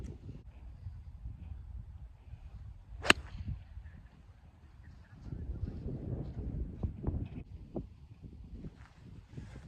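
A 6 iron swung on a windy fairway strikes a golf ball with a single sharp crack, heard over low gusting wind and rustling.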